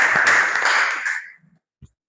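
Classroom applause from a small group, a dense burst of clapping that fades out after about a second and a half, followed by one faint isolated clap.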